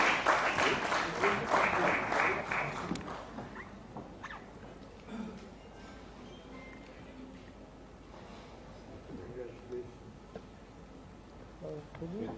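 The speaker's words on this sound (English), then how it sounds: "let's have a round of applause for this felicitation" Audience applause for a felicitation at a plenary session on the blue economy, a few seconds of clapping at the start that quickly dies away into quiet room noise with faint scattered sounds.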